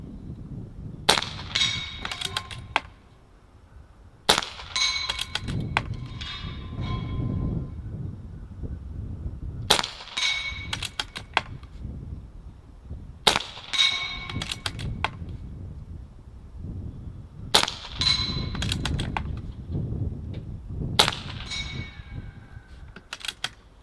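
Barra 250z air rifle fired at steel plates outdoors, six sharp shots spaced a few seconds apart, each with a bright metallic clang, amid low background noise and no talk.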